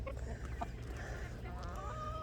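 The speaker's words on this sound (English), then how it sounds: "Look at those chickens." Soft, sporadic clucking of chickens in a quiet outdoor setting, faint and a little distant against low background rumble.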